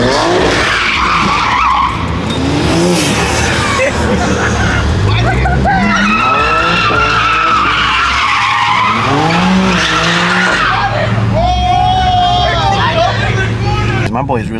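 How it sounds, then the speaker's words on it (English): Cars drift around a street corner during a JDM car meet takeover, with long wavering tire squeals and revving engines over a loud, steady crowd babble of many voices. "Bro, you're just trying to drift this corner."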